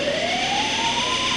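A loud, continuous siren tone slowly rising in pitch over a dense, harsh alarm drone from Three Mile Island nuclear plant control room horns and sirens during the meltdown, piercing and unbroken throughout.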